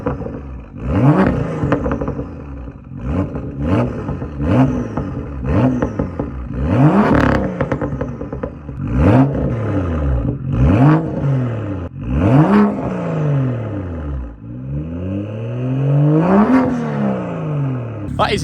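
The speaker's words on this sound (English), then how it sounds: "Now let's hear this M2 with the valves open" BMW M2 engine and exhaust with the valves open, revving repeatedly in sharp rising-and-falling bursts, loud and close, with a final long rev near the end.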